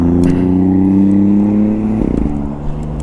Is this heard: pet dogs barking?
no